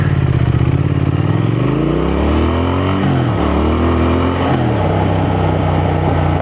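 A Triumph Thruxton 1200 motorcycle launches hard, its engine note climbing quickly through revs, dipping at a gear change, then pulling again, loud and close with no talk.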